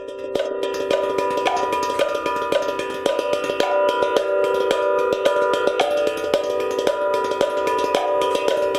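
Steel tongue drum played with the thrill technique, rapid continuous alternating strikes producing a smooth, ringing shimmer of bright metallic tones that sustain and overlap over several seconds, close and unaccompanied.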